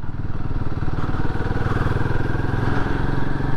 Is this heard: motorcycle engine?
yes